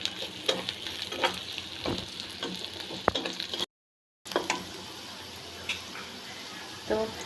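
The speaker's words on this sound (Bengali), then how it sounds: "সব কিছু দেওয়ার পর আমি আবারও এটাকে ভালো করে একটু ভেজে নিব" Papaya with green chillies frying in a pan: a steady sizzle with scattered spatula knocks and scrapes, moderately close, broken by a short silent gap midway.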